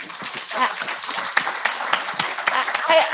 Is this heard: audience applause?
yes